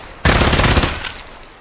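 Gunfire in Escape from Tarkov rings out as a rapid automatic burst, loud and close, sounding as a quick string of shots before trailing off into the surroundings.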